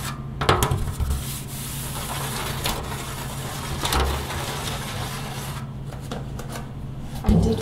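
Fingers scratch the back of a thick, stiff aluminum-foil-like material up close, giving a dry, crinkly rasping texture with irregular louder scrapes and taps.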